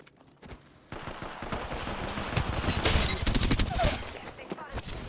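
Gunfire aimed at the player in Apex Legends, a fast, dense barrage of shots that builds from a quiet start into sustained loud bursts, with some speech in the background.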